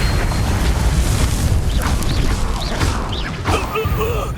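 Casting the Expelliarmus spell in Hogwarts Legacy produces a dense, roaring magical blast with crackling bursts and rising, whistling chirps layered on top, loud and continuous throughout.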